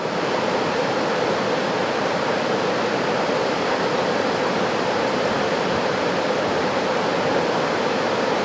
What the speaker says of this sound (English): I do have another waterfall coming up